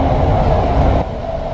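A metro train rolls along with a loud, steady low rumble heard from inside the carriage, with no voices.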